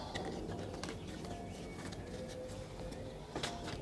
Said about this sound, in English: We've got the birds singing their hearts out outside